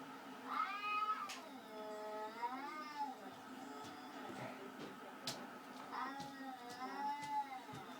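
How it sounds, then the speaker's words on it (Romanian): A cat meows twice, drawn-out and wavering, with a quieter stretch between calls. "Uite pisica acolo."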